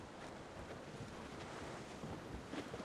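Sailing ship in Assassin's Creed Rogue running before the wind, a steady broadband rush of wind and surf with sea spray continuing throughout, no voices.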